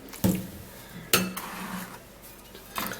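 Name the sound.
washing food in a bowl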